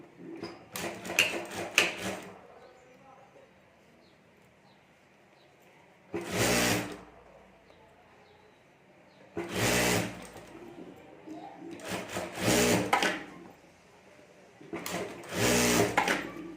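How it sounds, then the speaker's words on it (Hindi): A sewing machine stitches a folded pocket over a zip on a homemade clutch bag in several short bursts of whirring, with quiet gaps between them. "जिप के ऊपर हमें एक बार मोड़कर ऊपर सिलाई कर देनी है"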